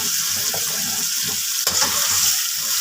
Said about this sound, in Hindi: इस कीमे को 7 से 8 मिनट कुकिंग ऑयल में अच्छे से फ्राई करना है